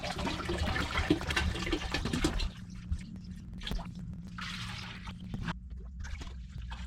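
Water splashing and trickling in a reef aquarium tank as it fills, loud and busy at first, then quieter drips and gurgles with brief bursts of running water.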